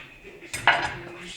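Pumpkin pieces set down into a metal baking tray, a sudden clatter and clink followed by a brief rattling scrape, close and fairly loud over a quiet room.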